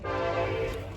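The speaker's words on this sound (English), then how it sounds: "That train's loud." A loud passing train rumbles close by in one dense, steady burst of low roar and rattling tone, heard briefly and alone.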